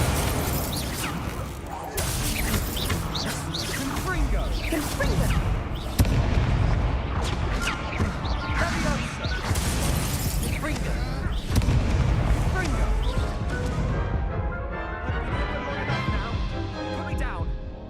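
The Incendio fire spell from Hogwarts Legacy on Xbox Series X bursts in a string of heavy booms and crackling blasts. The rumbling impacts go on without a break, with in-game character voices talking over them.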